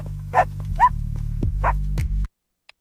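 An AI-generated dog in a running-race scene barks several times in quick, separate yips over a low steady hum, loud and close, ending in silence.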